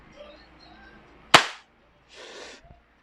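WE Hi-Capa 5.1 Type R airsoft pistol firing a single loud, sharp crack that decays quickly, followed by a brief softer hiss and faint tap.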